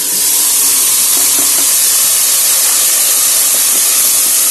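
Tomato paste hits browned onions in a hot pan and sets off a loud, steady, close sizzle and hiss that lasts the whole time with no break, while the onions fry for a beef tikka masala.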